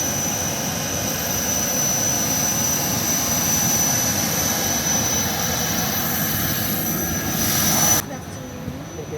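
Airplane jet engine whining steadily while passengers board at the airport in Maseru, Lesotho, a loud continuous roar with a high tonal whine that cuts off abruptly near the end.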